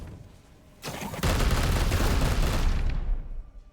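Sustained, dense burst of gunfire from the Warhammer 40,000: Chaos Gate - Daemonhunters game, a short lead-in then roughly two seconds of loud, continuous volleys that fade out.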